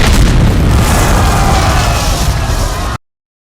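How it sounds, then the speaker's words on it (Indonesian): Fireworks launched in a fantasy film scene, a dense, loud, continuous roar of booms and bursts that fills the whole clip before cutting off abruptly near the end. "meminta para Munchkins untuk meluncurkan kembang api yang dikatakan sebagai sihir pemanggil bintang"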